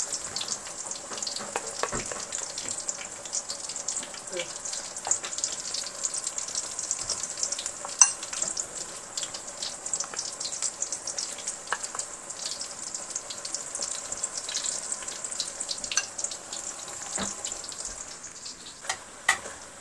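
Small mendoan tempeh fritters fry in a pan of hot oil with a steady, fairly quiet sizzle and crackle, dotted with faint pops and clicks throughout.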